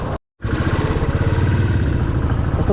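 A motorcycle engine drones steadily while riding, loud and close. The bike is on a solo highway ride through Nepal. The clip opens with a brief dropout and then stays even with no voices.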